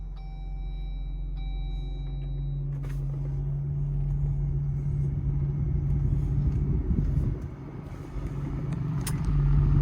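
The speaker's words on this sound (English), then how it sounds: "let's turn on the Jeep and see if it actually works" A 2020 Jeep Wrangler engine fires up after a brief hum and settles into a steady, low, close idle rumble.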